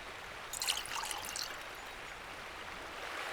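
Water pours into a container in the survival game The Last Plague: Blight, a short splashing trickle that rises quickly and then fades into a steady soft hiss, with no talk over it.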